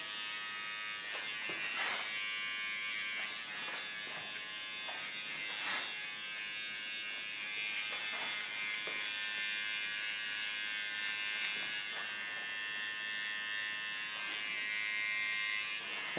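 A small electric hair clipper buzzes steadily while cutting short hair along a contour line, a thin high whine punctuated by brief louder strokes as it passes through the hair, close and fairly quiet with no voices.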